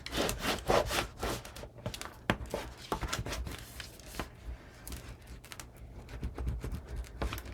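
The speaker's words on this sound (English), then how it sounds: "And then I'll burnish here and here." Rubbing strokes of burnishing paper onto double-sided adhesive for a mini album in a box, with irregular scraping and brushing passes, close and fairly quiet, some sharp taps between them.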